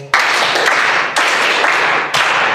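Audience at a school debate on Covid-19 and school girls gives Mexico Apollo an honoring clap: dense, loud group clapping in three short bursts, each starting abruptly and lasting about a second.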